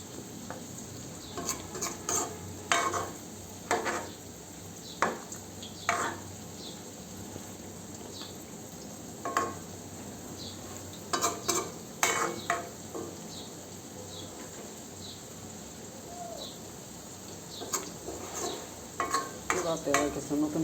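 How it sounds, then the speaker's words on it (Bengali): Leftover meat curry is reheated in a pan, a spoon scraping and knocking against the metal in irregular bursts over a soft continuous sizzle. "এখানে একটু মাংসের তরকারিটা গরম করে নিচ্ছি"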